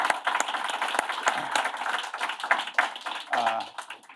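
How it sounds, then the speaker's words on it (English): Audience applause for panelists at the close of a policy panel on institutional investment in single-family rentals, sparse, uneven clapping from a modest crowd, with a voice briefly audible near the end. "Can you give me a round of applause?"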